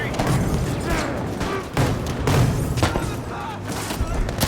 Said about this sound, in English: Why are there so many grenades?